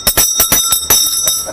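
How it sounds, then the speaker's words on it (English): A small kitchen bell is struck rapidly about eight times in a quick, bright run after a burger is served. "And then you ring the bell."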